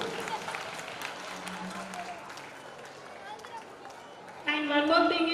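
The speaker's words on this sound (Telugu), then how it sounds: "గట్టిగా చప్పట్లు కొట్టండి" An audience at a school event claps for a children's song-and-dance performance, with a spread of applause fading over a few seconds before a voice speaks over a microphone.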